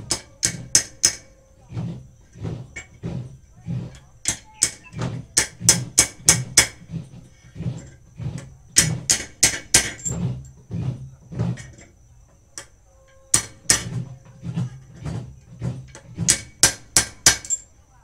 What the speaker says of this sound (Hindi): हल्का हल्का हथौड़ा मारना है,